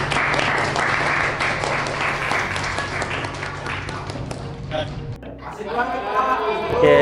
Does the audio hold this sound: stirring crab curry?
no